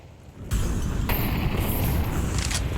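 Incendiary grenade in a Counter-Strike match on the Nuke map, a sudden loud whoosh that bursts into a sustained roaring, crackling burn of fire up close.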